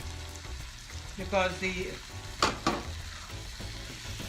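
Chana masala with chickpeas sizzles steadily in a pan as it is stirred, with scraping bursts near the middle and a brief voice speaking over the frying.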